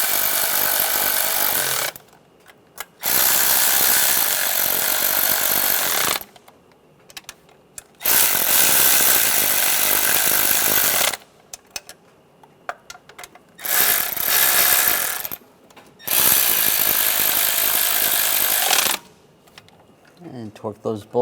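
Fuel injector bolts on a 1996–2002 Toyota 4Runner are snugged down with a ratchet in several loud, sustained bursts of rapid clicking, separated by short pauses of near silence.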